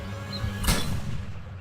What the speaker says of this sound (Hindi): अब वो उसके डैड पर गोली चला देती है